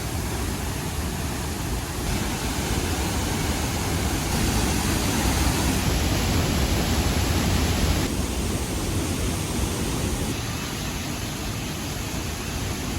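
A monsoon-swollen waterfall in Wayanad, Kerala, its heavy flow a dense, steady roar that fills the whole clip without letup, loud and close.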